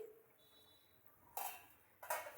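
Metal clinks from a cooking pot as its lid is lifted to check boiling potatoes, two sharp clangs about a second apart with a faint ringing tone before them, close and fairly quiet.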